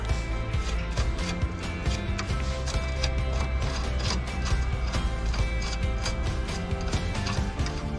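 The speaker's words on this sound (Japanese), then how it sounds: "で奥もね、ナット外します。" A ratchet wrench works a nut loose from the battery mount of a Toyota Voxy ZRR80W, a steady, close run of rapid clicking that carries on for several seconds without talk.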